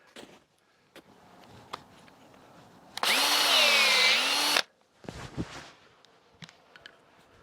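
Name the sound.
power drill boring a tap hole in maple tree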